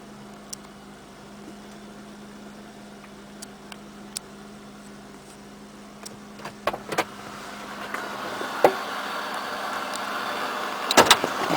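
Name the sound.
1998 Oldsmobile LSS engine cold start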